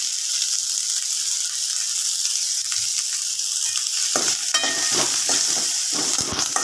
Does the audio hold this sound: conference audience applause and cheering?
no